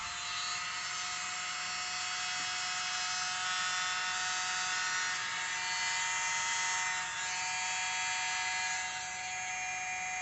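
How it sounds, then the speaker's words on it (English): A tiny handheld electric blower runs continuously while blowing acrylic pour paint, a steady high buzzing whir at close range with a slight waver in pitch and no talk. "I'm going to use my little world's smallest blower to blow it out."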